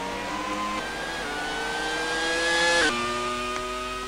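A Formula 1 car engine in a racing video game screams at high revs as it climbs through the gears, then drops sharply in pitch under hard braking, loud and steady throughout.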